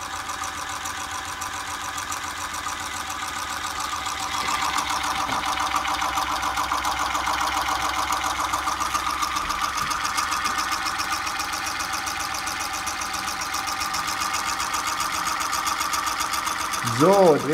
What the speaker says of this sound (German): Jetzt wackelt auch der ganze Tisch, weil der Motor hat richtig Schwingung jetzt